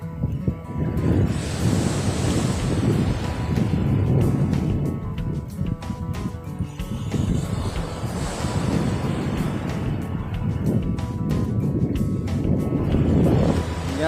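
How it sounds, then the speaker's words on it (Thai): Steady roaring wind buffets the microphone while big waves of the Andaman Sea wash and surge in slow swells, loud and continuous with no talking. "ทะเลอันดามัน วันนี้มันเป็นคลื่นเป็นลมเนี่ยคลื่นใหญ่เลย"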